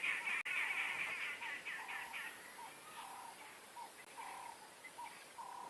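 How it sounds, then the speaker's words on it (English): Arrow-marked babblers chatter at dusk in the bush, a faint run of repeated harsh, nasal calls with short notes that continue through the stretch, quiet and somewhat distant. "that's just arrow-marked babblers being their usual chatty selves"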